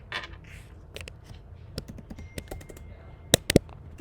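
Keystrokes on a computer keyboard while coding in Python, scattered clicks at an irregular pace, close-up, with two sharper, louder taps near the end and no speech.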